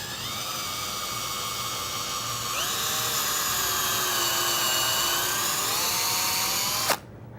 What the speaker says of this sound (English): I've got a perfect spot to place my drill bit.